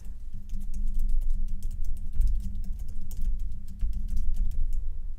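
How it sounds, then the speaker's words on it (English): Quick, steady typing on a computer keyboard, close and fairly loud: dense clicky keystrokes run continuously over a low background hum. "I bet you like the sound of the typing."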